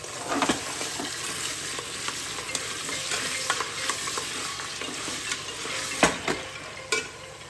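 Chopped vegetables with salt frying in a pan for cauliflower masala rice, a continuous bright sizzle broken by repeated spatula stirs and scrapes, close and without speech.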